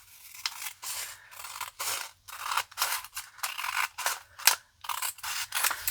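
Scissors snip through paper card stock behind the die cuts of a handmade pop-up bouquet card, a close, steady run of about a dozen crisp cuts with short pauses between strokes.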